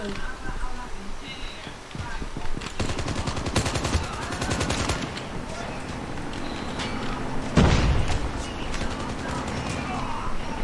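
Bursts of automatic gunfire and single shots from a video game shooter match, rapid rattling volleys that come and go with a loud close burst near the end, mixed with game effects and voices talking.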